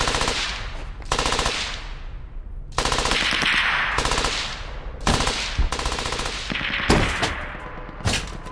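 Repeated loud bursts of machine gun fire in the World War II video game Brothers in Arms: Hell's Highway, several sustained rattling volleys broken by short pauses, close and harsh with no talking.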